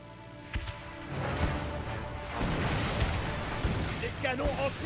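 Anti-aircraft cannons fire in the video game Knack as a rumbling barrage of booms and bursts that builds from quiet into a sustained roar, with tonal game sounds near the end.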